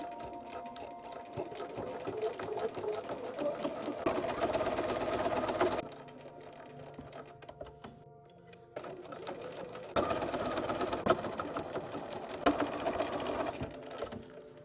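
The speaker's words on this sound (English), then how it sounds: "that was a lot of sewing" Domestic sewing machine stitching dress seams in long, steady whirring runs, with a quieter pause in the middle before the motor picks up again, close and fairly loud, no talk.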